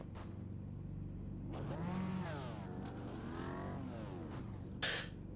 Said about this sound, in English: Very different engine noise as well.